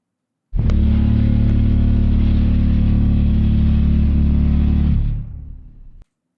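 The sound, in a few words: Chernobyl Jaeger arrival sound from Pacific Rim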